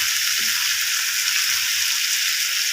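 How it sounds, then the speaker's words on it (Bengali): Boiled eggs hit a hot pan for a simple egg curry, setting off a steady, bright sizzle that carries on evenly throughout, with no voices. "সিদ্ধ করা ডিমগুলো দিয়ে দিলাম।"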